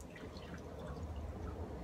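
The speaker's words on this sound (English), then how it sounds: "She's gonna pour that much water on me" Water is poured over a person, a continuous soft splashing trickle running steadily at moderate-to-quiet level with no voices.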